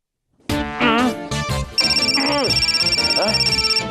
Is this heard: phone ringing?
yes